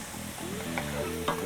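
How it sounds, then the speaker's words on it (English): A spoon scrapes and stirs potatoes and broccoli in a soup pot, with a soft sizzle underneath and a couple of sharper clinks. "I'm adding potatoes, the broccoli, giving it a nice"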